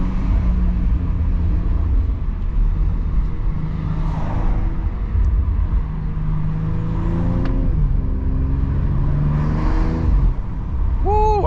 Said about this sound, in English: I can hear the turbo and everything.